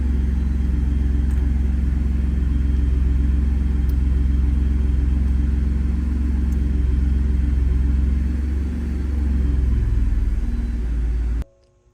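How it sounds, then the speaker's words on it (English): A Ford F-150 pickup truck engine runs with a loud, steady low rumble for several seconds, easing slightly near the end before cutting off abruptly. "Let's turn on the engine first."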